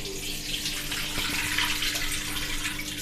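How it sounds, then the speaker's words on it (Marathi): Water pours off washed barnyard millet (vari) in a steady, rushing stream, a continuous splashing wash lasting the whole moment with no voices. "याच्यातलं मी आता पाणी काढून घेणार आहे। वरईतलं पाणी ओतून घेते।"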